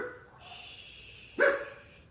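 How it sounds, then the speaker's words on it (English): Dogs bark loudly nearby in a single sharp burst, after a quieter stretch of indoor room tone. "the dogs are going crazy and I don't know why"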